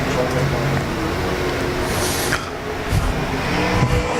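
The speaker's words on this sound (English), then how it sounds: "Car does not sound too healthy." A USAC/CRA sprint car engine roars steadily nearby during time trials at an Arizona speedway, a rough, uneven, unhealthy-sounding note, its pitch wavering slightly over a few seconds.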